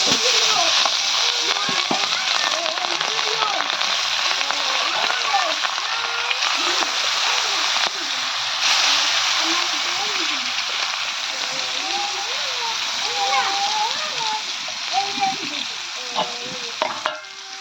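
Three pieces of hilsa fish and a fish head frying in oil, a loud, continuous close sizzle running throughout while someone talks over it.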